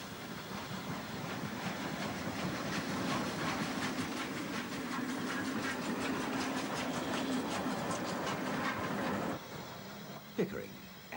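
Great Western Railway 0-6-0 tank steam locomotive number 6619 arriving at Levisham station on the North Yorkshire Moors Railway, a steady rumbling chuff and rail clatter that drops away near the end, with a voice talking over it.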